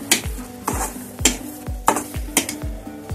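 A spoon stirs sugar into sweet puran poli filling in a pot, scraping in a steady rhythm of about six strokes, each with a sharp knock against the pan, close up and with no voices.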